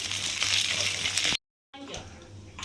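Ginger garlic paste sizzles in hot oil, the base for a chicken liver and spleen fry. A loud, close, continuous frying hiss cuts out briefly, then resumes slightly softer.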